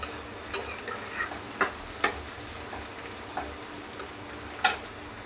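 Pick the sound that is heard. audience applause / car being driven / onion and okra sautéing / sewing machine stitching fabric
onion and okra sautéing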